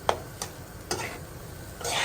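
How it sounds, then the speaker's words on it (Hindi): Stirring sauce for lasagna with oregano in a cooking pan, heard as a few separate scraping strokes spaced through the moment over soft background noise, ending in a longer rubbing swirl. "अब इसको हम अच्छी तरह से मिक्स कर लेंगे।"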